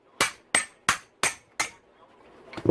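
Five sharp, evenly spaced hammer taps on a socket fitted over a stuck bolt during a Yamaha YZ450F engine rebuild, loud and close with no talk, followed by a faint clatter.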